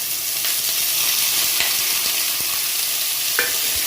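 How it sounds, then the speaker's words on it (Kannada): Green chilies and coriander leaves fry in hot oil for street-style masala puri, giving a steady close sizzle with a few soft stirring scrapes and clicks and no voices. "ಕಾಯಿ ಮೆಣಸು ಹಾಕಿ ಹೀಗೆ ಎಣ್ಣೆಯಲ್ಲಿ ಉರಿ ಕೊತ್ತಂಬರಿ ಸೊಪ್ಪನ್ನು ಹಾಕಿ"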